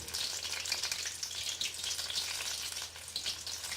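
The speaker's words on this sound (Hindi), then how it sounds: "तो इनको फ्राई कर लेंगे।" Chicken samosas fry in hot oil with a steady, dense crackling sizzle that runs unbroken and fairly loud throughout, with no voices over it.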